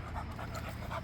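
A dog pants steadily at a dog park, quick rhythmic breaths close by over a low outdoor rumble.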